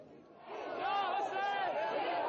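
A crowd of Iranian opposition demonstrators at a rally, voices rising into a loud, sustained roar of shouting and chanting that swells after the first half-second and holds steady.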